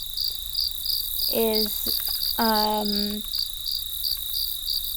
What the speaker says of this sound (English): crickets and kind of just the bugs at night